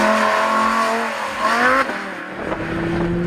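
Audi R8 Performance Parts accelerating on a wet road in rain, engine note rising then dropping with tyre hiss, loud and close inside the car.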